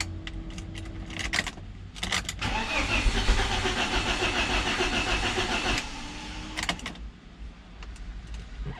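A BMW Z3 engine is cranked by its starter in a project car, a close, steady churning that lasts about four seconds after a few short clicks and clunks, then stops without the engine catching.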